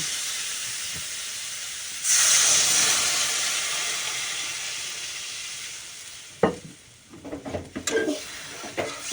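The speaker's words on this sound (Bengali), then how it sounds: "কষানো হয়ে গেছে এবার আমি জল দিয়ে দেব" Water is poured into a pan of frying fish masala made with bitter gourd, setting off a loud, hissing surge of sizzle and steam that slowly fades, followed by a few sharp clinks of a utensil against the pan.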